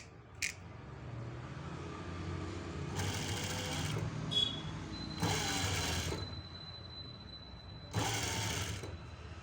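An electric sewing machine stitches a piping piece in short runs of whirring, several separate bursts with quiet pauses between, fairly close and moderately soft.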